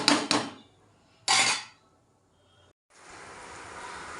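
Metal clanks as a lid is set onto a cooking pot of fish curry: two quick knocks, then a third louder clatter, followed by a soft steady simmer.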